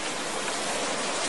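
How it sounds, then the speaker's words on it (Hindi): Steady rain pours in a cartoon, a dense, even hiss of falling water at constant loudness for the whole brief moment, with no voices. "बारिश हो रही है"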